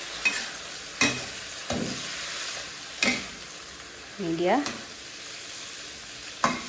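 Eggs fry in a second wok beside stir-fried vegetables, giving a steady sizzle with sharp spatula clacks and stirring scrapes. A voice speaks briefly.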